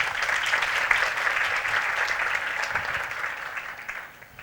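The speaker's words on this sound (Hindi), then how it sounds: "अंकल के लिए तालियां।" Audience at a satsang gathering in Ulhasnagar applauding for an uncle, steady dense clapping from a crowd that holds through most of the stretch and thins slightly at the end.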